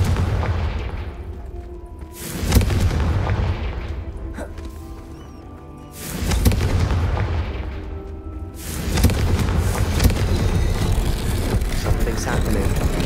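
Confringo blasting-curse explosions in the video game Hogwarts Legacy, three loud booming bursts spaced a few seconds apart, each with a rumbling tail that fades before the next, over game sounds with occasional talk.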